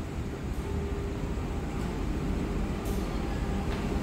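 A Fajar Utama Solo executive passenger train pulled by a CC 204 locomotive rumbles along, heard as a steady low rolling roar with faint rattles, continuous and moderately loud. No one speaks.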